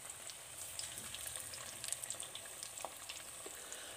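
Pieces of spicy fish frying in a pan over a medium flame, a steady crackling sizzle with small pops, fairly quiet and continuous throughout.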